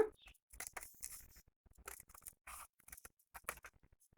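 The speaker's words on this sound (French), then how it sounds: "Je vais découper en forme de, comme une banane" Scissors snip through a folded paper rectangle in quick, close, crisp cuts with short pauses between them, faint and with no voice over them.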